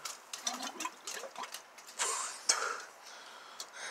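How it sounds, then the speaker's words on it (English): Air blown by mouth through the transmission dipstick tube of a 2004 Ford Taurus, making oil gurgle and bubble out in soft, irregular wet bursts, close and fairly faint. "it bubbled right out once I breathed through it"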